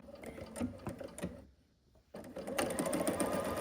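A sewing machine stitches pieces of a Holly Jolly sampler quilt, running in a steady close whir, pausing briefly midway, then starting up again and continuing to the end.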